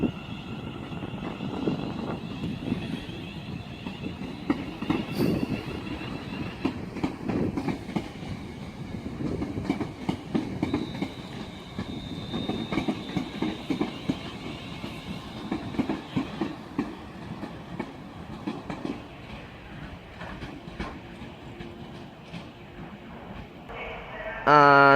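A Class 350 electric train on the West Coast Main Line at Crewe station, heading for London Euston via Stoke-on-Trent, gives a steady rumble and clatter of wheels on rails, fairly loud and fading near the end, with someone talking over it.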